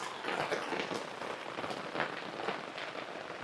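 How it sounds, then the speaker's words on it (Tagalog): Heavy rain pours steadily on Mount Mayon, a dense, continuous hiss of drops with scattered louder patters throughout. "Inabot talaga tayo dito sa gitna ng Mount Mayon, kasagsagan na ng ulan"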